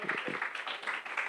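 Crowd at a panel session applauding the panelists with a continuous, even spread of clapping from many hands, faint and somewhat distant, while a few low voice fragments surface near the start.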